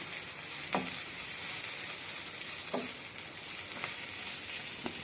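Paneer bhurji with spices fries in a pan with a steady, even sizzle, and a utensil scrapes and stirs through it every second or two, close and moderately loud with no talk.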